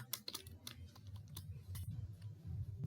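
Someone types numbers into a program on a computer keyboard, a scattered series of close, soft key taps with uneven spacing, quiet against low background noise.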